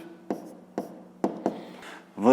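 Pen marks on paper while the answer to a fifth-grade maths exercise is written down: four distinct scratchy taps at an uneven pace, close and fairly quiet, followed by a short burst of a voice at the end.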